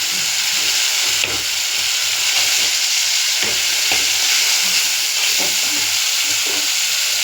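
Boiled tomato goes into a spice paste frying in a pan, giving a loud, continuous sizzle with repeated stirring scrapes and light knocks throughout, and no one speaks.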